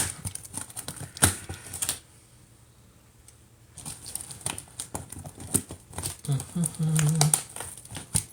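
A cardboard box from a 28-year-old whisky being cut open, with scrapes, crinkles and tapping bursts around a quiet gap. A speaking voice runs through most of it.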